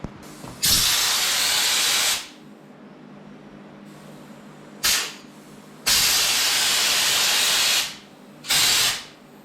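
A spray gun hisses bed liner coating onto vehicle accessories in three long, loud bursts, each a couple of seconds, with a short puff between them and a faint hum in the gaps.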